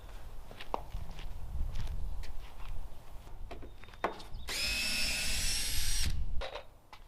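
A power drill runs in a short loud whining burst to back screws out of a barn door jamb, surrounded by footsteps, knocks and handling sounds of the work.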